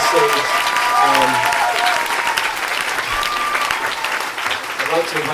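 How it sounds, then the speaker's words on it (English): Applause from the audience at a UK family gathering, with hands clapping in a sustained, even roll at close range while voices carry faintly underneath. "let's give her a huge round of applause"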